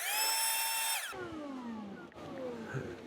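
Brushless electric air blower in a woodworking shop, whining loud and steady at a high setting, then dropping in pitch as the airflow hits and blows dust off surfaces.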